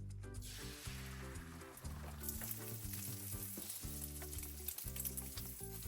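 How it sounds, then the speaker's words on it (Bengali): Steady crackling sizzle of an egg frying in a pan with chopped raw onion and green chili, continuous throughout and heard alongside a layer of tonal background music. "একটুখানি কাঁচা পেঁয়াজ আর কাঁচা লঙ্কা দিয়ে ডিমটা ভাজবো।"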